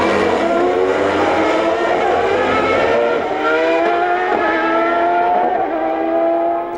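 Formula 1 cars of the 1993 season racing as Andretti battles Karl Wendlinger's Sauber, a loud sustained high-pitched engine wail with shifting pitch as the cars pass close, no talk.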